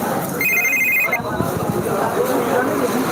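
A mobile phone rings with a short bright electronic ringtone at a busy cattle market in Jaintiapur, Sylhet, heard over nearby talking and crowd murmur before the ring stops.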